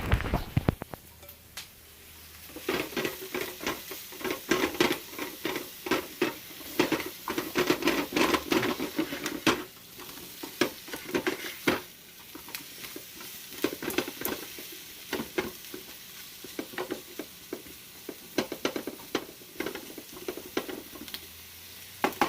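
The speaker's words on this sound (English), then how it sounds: "I'm going to saute it down" Food sautéing in a home kitchen pan gives a close, continuous sizzle, broken by irregular clicks and scrapes of stirring, loudest in the first half and thinning later.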